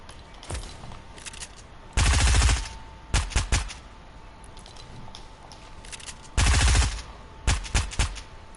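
Bursts of automatic gunfire in a video game: two long sustained rapid-fire sprays with shorter stuttering volleys between them, loud and close, with quiet gaps between the bursts.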